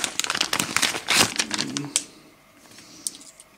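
A small plastic packet from a parcel is torn open, giving dense, loud crinkling and rustling bursts that fade to faint handling noise.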